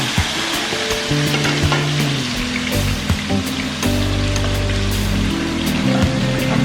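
Steady crackling sizzle of tilapia frying in hot oil, close and continuous, with a low hum of background tones underneath.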